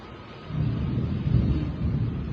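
A low, deep rumble of thunder during rainfall swells after a quiet start and rolls on steadily, heavy and sustained, with no voices.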